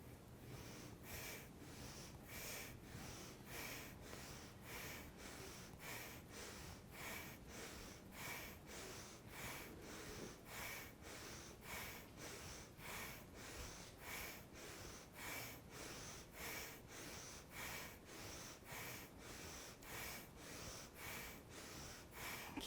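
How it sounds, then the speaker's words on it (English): Breath of fire in a Kundalini and vinyasa yoga flow: rapid, rhythmic forceful nasal exhalations, roughly one or two per second, sustained evenly for over twenty seconds, close and fairly quiet, with no speech. "Might come like breath of fire there as you breathe out."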